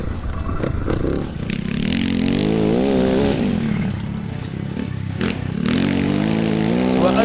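MX400 motocross bike ridden hard through a lap, its engine loud and close throughout, revs rising and falling steadily with the gear changes.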